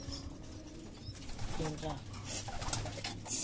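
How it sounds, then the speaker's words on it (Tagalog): A pet pigeon coos softly in a few low, rounded calls, mixed with a person talking nearby in a room with light background noise. "Yung bird natin dito, nasa baba na siya."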